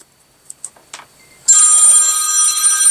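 A telephone starts ringing loudly and continuously with a bright electronic tone after a few faint clicks and taps, close by with no talk.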